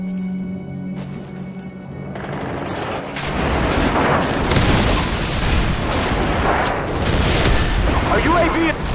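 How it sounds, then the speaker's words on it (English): Airstrike explosions in Call of Duty 4 team deathmatch on the Ambush map: loud, heavy booming blasts erupt after a few seconds, layered with rattling gunfire and continuing through to the end. "Friendly airstrike on the way!"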